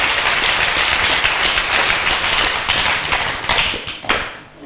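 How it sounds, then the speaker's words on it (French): Dense, sustained applause from a church audience, many hands clapping together loudly and steadily, then thinning out toward the end. "Clap for brother Elijah."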